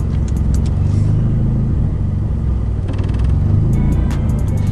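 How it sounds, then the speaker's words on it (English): A turbocharged Mazda Miata engine, a DIY boosted project car, rumbles loud and steady from inside the car as it runs through the gears, with a continuous low drone throughout. "I was going through the gears"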